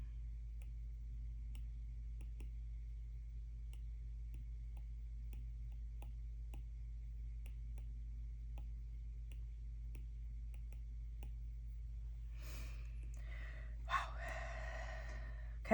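Faint, scattered clicks of someone typing on a keyboard tap out at an uneven pace over a steady low hum, followed near the end by a breathy sigh.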